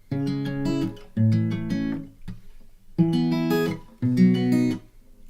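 Four strummed guitar chords ring out one after another, each sustained for about a second with short gaps, clear and close.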